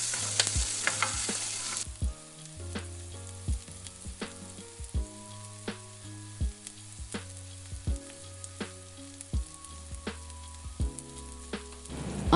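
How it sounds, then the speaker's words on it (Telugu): Chicken liver frying in oil over a medium flame, with steady sizzling overlaid by music, punctuated by regular sharp clinks of a utensil stirring against the pan. "ఆయిల్ సెపరేట్ అయ్యేంత వరకు మీడియం ఫ్లేమ్లోనే వేయించుకోవాలి"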